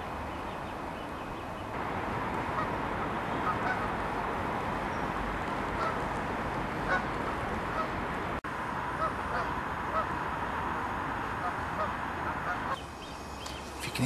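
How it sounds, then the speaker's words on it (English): A juvenile great crested grebe calls repeatedly from across the water on a late-autumn evening, a dense, continuous chatter of faint cries set against a steady background hiss. "If you can hear that noise, that bird noise out there, it's a great crested grebe, juvenile"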